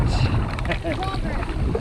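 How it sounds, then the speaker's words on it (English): Gusty wind buffets the microphone while a canoe crosses North Jack Lake in the Boundary Waters, a close rushing roar mixed with water sounds that holds steady throughout. "we've got about a little bit of wind today. It's gusting at times"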